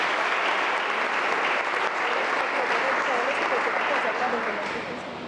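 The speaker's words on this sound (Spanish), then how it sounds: "un aplauso para su servicio y su vida." Sustained applause from a gathered church congregation thanking a Marian prayer group for its service, dense clapping that holds steady and eases off at the end.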